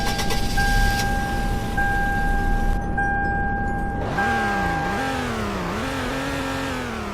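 Engine of a right-hand-drive 2004 Toyota Will Cypha in a Roblox game, a steady droning hum that rises and dips in pitch as it revs and shifts, heard close with no talking.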